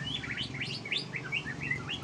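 A white-rumped shama, or murai batu, moulting but still responsive, chirps in a quick run of bright rising and falling notes over a steady low background hum.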